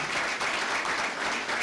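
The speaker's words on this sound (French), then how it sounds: "applaudissons pour ce parcours" An audience in a hall bursts into thick, continuous applause, many hands clapping at once in a brief, steady wash.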